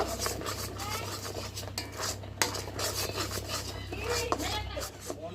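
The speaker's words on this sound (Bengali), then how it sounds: "অনবরত নেড়ে চেড়ে মিশিয়ে নেব" A spoon scrapes and stirs continuously in a pan of milk-powder frosting over a low flame, steady close metallic rasping with occasional clinks against the pan.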